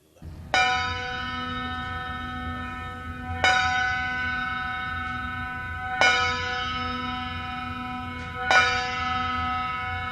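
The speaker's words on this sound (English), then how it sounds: "a nearby church bell was tolling a funeral knell" A single church bell tolls a funeral knell slowly, four resonant strikes spaced evenly apart, each ringing out and fading into the next.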